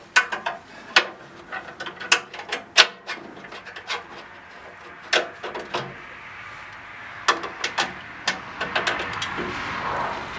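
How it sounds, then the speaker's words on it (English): Impact driver tightening M8 bolts on a Grizzly G0458Z 18-inch sander, heard as a run of sharp rattling bursts and clanks in uneven clusters, close and fairly loud, fading to scattered knocks toward the end. "So now I'm going to use this impact to"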